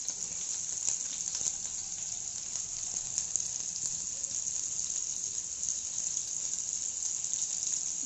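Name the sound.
chopped onions frying in hot refined oil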